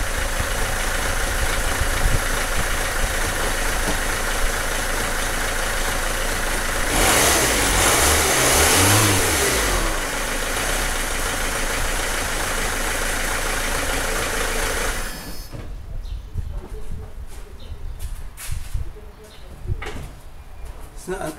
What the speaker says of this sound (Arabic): سمعنا حس المحرك مش صافي